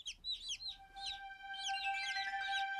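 Chicks or young chickens indoors give a quick run of high, rapid peeping chirps, fairly close and clear, over a faint steady hum, with no talking.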